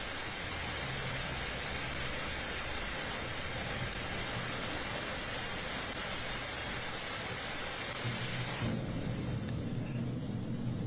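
Lithium battery of an electric vehicle in thermal runaway, jetting flame with a loud, steady blowtorch-like roar that fills the scene, then shifts to a harsher hiss near the end.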